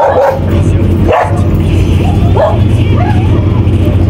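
A pet dog barks and yips in short bursts over a steady low background hum, fairly close and moderately loud, with some voice-like sound mixed in.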